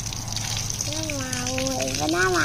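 Tap water runs steadily while someone washes their hands with soap, a constant hiss close by, with voices talking over it.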